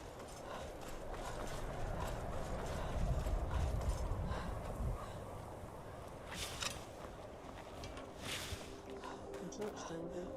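Horses' hooves in the video game Skyrim clop along in a steady rhythm at moderate volume, with someone talking over parts of it.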